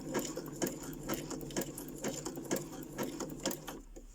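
A sewing machine running a zigzag stitch, its needle thumping in a steady, even rhythm of about two strokes per second over a continuous mechanical whir, close and alone.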